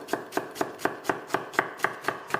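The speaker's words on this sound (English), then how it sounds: "So I'm going to chop the onions quite fine." An onion being finely chopped with a knife on a board, about ten crisp, evenly spaced cuts in a steady rhythm, close and clear, with no talking.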